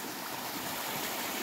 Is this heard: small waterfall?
yes